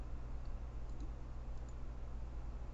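A single soft computer mouse click lands on a checkbox in Photoshop CS6, faint and brief against a low steady room hum.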